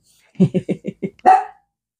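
A small dog yaps five quick barks in a row, then one longer, higher bark, close by and otherwise quiet.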